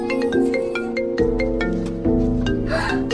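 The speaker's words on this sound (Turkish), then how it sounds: "benim tabletim çalıyor" A tablet rings with an incoming call, a repeating electronic melody of short tonal notes playing steadily and fairly loud for a few seconds with no talking.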